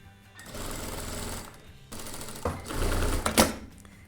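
A sewing machine stitches a summer dress lining in rapid mechanical runs, with two clear bursts of fast, steady chatter separated by a short pause and ending in a sharp click, close by and without talk.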